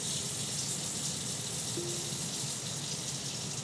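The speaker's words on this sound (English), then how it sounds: "she automatically turns the water off for us" Running water in an RV rushes steadily and loudly like an open tap, with no clear stop or valve click.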